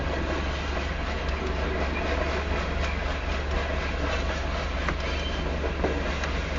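A Union Pacific grain train rolls past on the Spine Line, a steady rumble with clattering wheels and faint squeals, heard alone at moderate distance.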